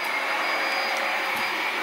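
A household vacuum cleaner runs steadily nearby, a loud continuous whirring roar with a faint high whine, holding level the whole time with no talking.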